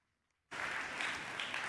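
Applause from a university doctoral hooding ceremony audience honoring friends and family, bursting in suddenly after a brief silence and continuing as a dense, steady wash of many hands clapping.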